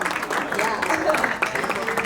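An audience claps at a product unveiling event, with a dense, steady wash of applause over the whole stretch, mixed with crowd noise and voices.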